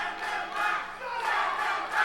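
A wrestling crowd at an indie show chants in unison, a loud, rhythmic group shout repeating in waves under the arena echo.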